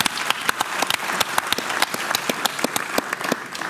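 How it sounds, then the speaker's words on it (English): Audience applause at a housing forum with three big-city mayors, a steady dense patter of clapping from a crowd filling the room for several seconds, with no talk over it. "That deserves a round of applause"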